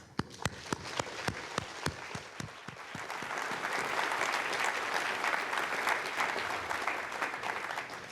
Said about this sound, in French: je crois qu'on peut tous les applaudir